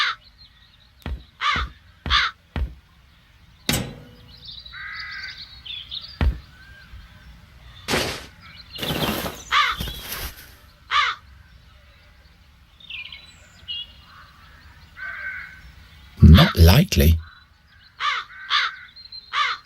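Crows cawing in the video game The Dark Eye: Chains of Satinav, sharp, scattered caws at irregular intervals, some loud and close, with a brief spoken line and other game sounds between them.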